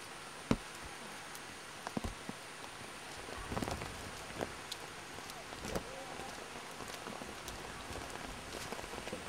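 Steady rain falls on surfaces close by, with scattered louder drops and taps standing out against a continuous hiss, while a coconut gatherer carries a heavy load through the downpour.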